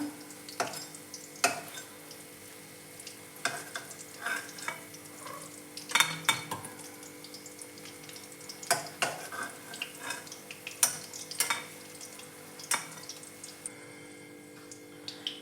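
Chicken pakoras sizzle steadily in hot oil, with a continuous frying hiss broken by scattered clinks and scrapes of a utensil stirring the pan, close by and without speech.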